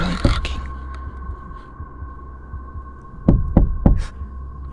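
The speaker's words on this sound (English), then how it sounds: "you can hear the man knocking" Hollow knocks on a truck's metal surface, a single early thump then a quick group of three, over a steady low hum.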